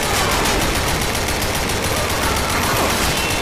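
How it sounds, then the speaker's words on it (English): Sustained machine gun fire in the video game The Darkness 2 rattles loud and continuous, a dense rapid burst with no break and no talking. "Machine gun."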